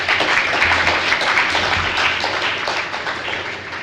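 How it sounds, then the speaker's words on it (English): A high school audience at an honors and National Honor Society ceremony applauds honorees with dense, sustained clapping that fills the room throughout, steady and fairly loud. "Give them a round of applause."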